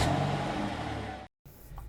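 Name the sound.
gasoline-powered 2023 Honda CR-V driving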